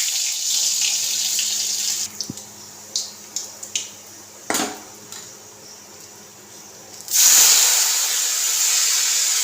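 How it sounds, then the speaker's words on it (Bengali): Tap water runs steadily while dishes are washed at a sink, with a continuous hiss broken by a few clinks and knocks of utensils, then a louder gush of flowing water near the end. "আর জল তোলা হয়ে গেছে, বাসনটা ধুয়ে নিয়ে রেখে দিচ্ছি"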